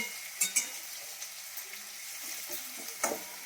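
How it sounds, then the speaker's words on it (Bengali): Onions frying lightly in a pan give a soft, steady sizzle with a few sharp clinks of a spatula or utensil against the pan. "পেঁয়াজটাকে ভেজে নিই হালকা করে"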